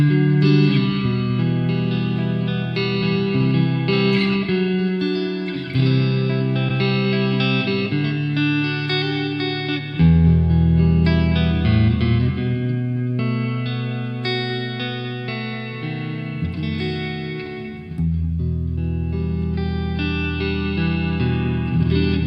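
A warm, round Peavey Raptor electric guitar tone on the neck pickup strums chords and picks notes steadily, ringing and sustained with no one speaking.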